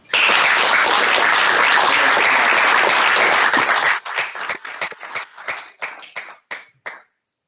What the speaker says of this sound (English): can we give Anup a round of applause?